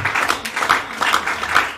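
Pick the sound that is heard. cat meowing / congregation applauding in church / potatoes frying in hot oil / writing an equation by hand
congregation applauding in church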